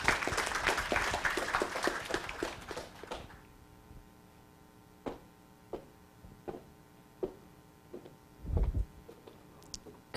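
Applause for the opening speaker at an international pharmacy conference, a dense burst of clapping from a crowd for about three seconds that cuts off, followed by a quiet room with scattered faint knocks and shuffles.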